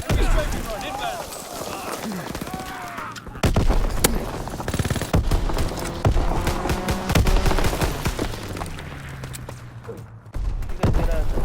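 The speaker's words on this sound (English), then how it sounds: "Enemy strafing run inbound." Dense bursts of machine-gun fire roll through a strafing run in Call of Duty WWII, with rapid overlapping shots, explosions and battlefield clatter under excited player voices.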